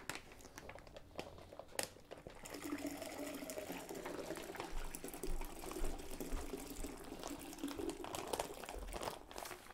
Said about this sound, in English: I'll rinse this with my, you know, roughly 2 quarts of water. And I'll pour it right back in here to top up just a little bit more.